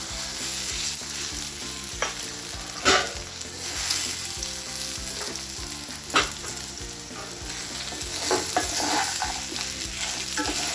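Leftover rava upma balls dropped into a tempering of oil with turmeric powder, frying and being stirred in a pan, with steady sizzling broken by a few sharper spatula clinks and spikes, close by and with no talking.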